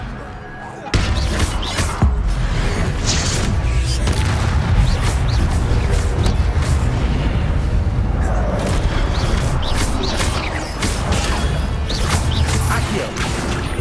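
Fiery spell blasts and crashing impacts from Hogwarts Legacy gameplay, dense and loud throughout with repeated booms and crackles layered under game effects and voices.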